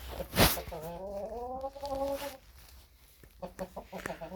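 A chicken gives a drawn-out call amid soft clucking, with a sharp clatter near the start and quieter scattered clucks afterward.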